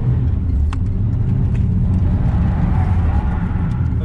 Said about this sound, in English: Do the rev, dumping the clutch.